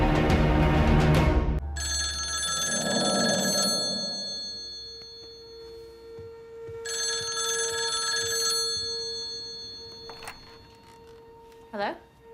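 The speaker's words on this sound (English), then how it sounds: "I took a chance and dialed the number I had for Lydia's old landline" A landline telephone rings in two long bursts of electronic trilling, fairly close and clear, followed by quieter handling sounds and a brief click at the end.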